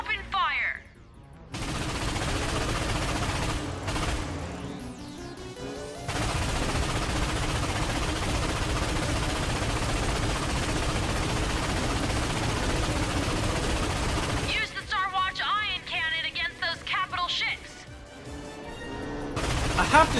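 Dense, continuous bursts of cannon fire in Ratchet & Clank on Planet Batalia roar for long stretches, with a brief lull and busier electronic effects later.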